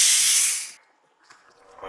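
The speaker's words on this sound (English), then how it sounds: "I have sprayed you with a substance which will render you much less aggressive and violent" A loud, steady hiss of a substance being sprayed in a horror audio drama, lasting under a second before cutting off, followed by faint background rustle.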